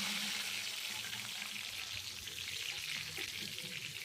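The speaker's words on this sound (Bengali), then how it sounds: "এগুলো দিয়ে কিছুক্ষণ ভেজে নেব।" Whole garam masala spices fry in hot oil lightly seasoned with salt, giving a steady close sizzle and soft crackle that holds evenly throughout, with no voices.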